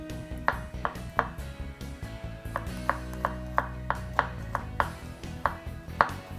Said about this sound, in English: we're going to slice this up and just